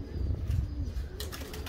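A homing pigeon coos softly at close range inside a loft, a low murmur with a brief rustle of wings near the end.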